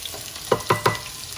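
Onions frying in hot oil for chicken biryani, with three quick scraping stir strokes close by over a faint background sizzle, no talking.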